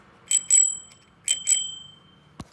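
A bicycle bell on a 29er bike is rung twice in quick pairs, bright metallic dings close up and loud, followed by a single faint click at the end, with no talk.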